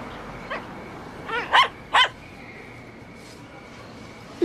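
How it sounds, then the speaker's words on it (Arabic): A dog in a Moroccan film scene lets out several sharp barks in quick succession, moderately near, over a steady background hiss, followed by quiet. "اش جا الكلب؟"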